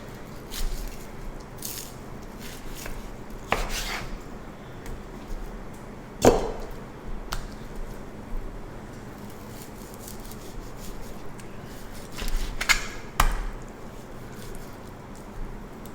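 Knife cutting steaks into smaller pieces on a board, several sharp, separate chopping taps spread irregularly over quiet kitchen background, close and fairly crisp.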